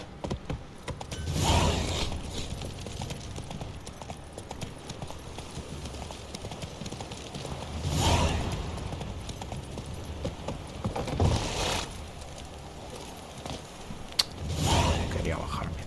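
Horse hooves clip-clop in The Witcher 3 in periodic bursts of heavier thuds a few seconds apart, against a quieter backdrop of game ambience and faint mechanical sounds.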